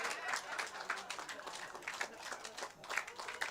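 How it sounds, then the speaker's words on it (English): A concert audience claps steadily and continuously, a dense wash of applause that holds its level from start to finish. "Let me hear you all after and keep it the applause going"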